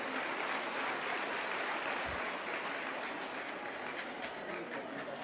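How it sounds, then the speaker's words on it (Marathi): Applause from an audience at a BJP Rakhi ceremony in Mumbai, a continuous dense wash of clapping held at steady loudness throughout, with no speech over it. "टाळ्या वाजवायच्या तर जोरात वाजवा"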